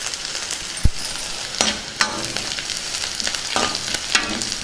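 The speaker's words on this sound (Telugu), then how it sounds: "ఉల్లిపాయ ముక్కల్ని కాసేపు బాగా వేగనిద్దాం" Onion pieces with curry leaves frying in a pan: a bright, continuous crackling sizzle broken by several spoon scrapes and clanks against the metal, heard up close.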